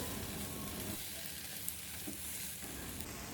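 Quiet sizzling of tempe being stirred in a frying pan, with soft scraping of stirring, faint and steady, no talking.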